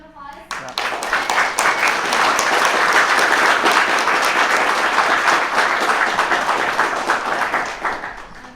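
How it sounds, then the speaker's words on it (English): Applause from the audience at an Angular developer meetup, rising quickly after a brief quiet start, holding full and loud, then thinning slightly toward the end. "give Patrick another round of applause."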